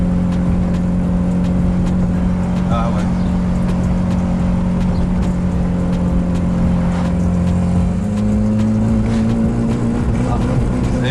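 A Volkswagen Golf 2 GTI engine idles steadily close by, a deep, muffled drone with a constant hum, then the pitch steps up slightly as it is revved. Someone speaks briefly over it.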